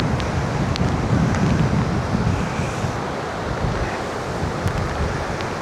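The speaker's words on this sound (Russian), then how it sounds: "Волны, ну, метр где-то, наверное," Sea waves about a metre high break along a windy coast on a cycling route, with gusts near 45 km/h; steady roaring surf blends with heavy, rumbling wind buffeting the microphone, loud and continuous without talk.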